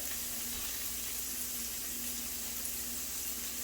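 Bacon sizzles steadily in its own grease in a pan for a tater tot casserole, a constant close hiss with a faint low hum underneath and no talk.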